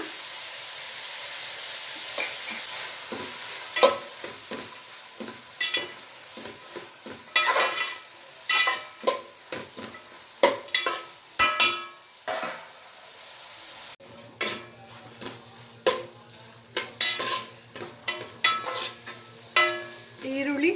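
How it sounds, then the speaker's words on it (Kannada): Capsicum and cabbage stir-fried for Hakka noodles, with a steady sizzle beneath repeated scraping and clattering of a utensil against the pan, close and busy, no talking. "ಕ್ಯಾಪ್ಸಿಕಮ್ಮು ಹಾಗೆ ಕೋಸೆಲ್ಲ ಚೆನ್ನಾಗಿ ಫ್ರೈ ಆಗಿದೆ"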